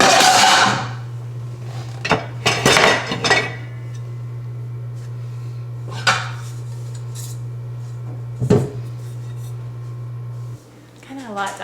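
Cast-iron skillets and pans clank and scrape as they are moved around while a kitchen is organized, with several sharp metallic knocks spread over a steady background hum.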